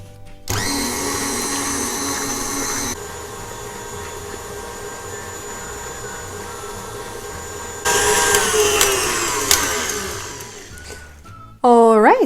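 An electric mixer beats Oreo cupcake buttercream with a steady, loud motor whine, shifting to a higher-pitched pitch partway through, winding down briefly, then starting again at the end.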